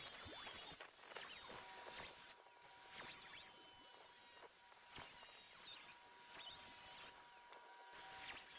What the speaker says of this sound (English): Let me get these bolts out and see how this starts to come apart.